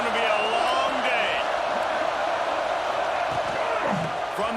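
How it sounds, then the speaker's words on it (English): Stadium crowd in College Football 26 during FIU versus Penn State, a steady, full roar with whoops that fills the whole moment, while a voice talks over it. "This crowd, full throat, splitting the eardrums and letting them know it's going to be a long day"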